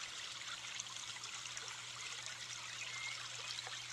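Small waterfall spilling down in a calm open place, a soft continuous trickle and splash of flowing water, steady and fairly faint, with no voices.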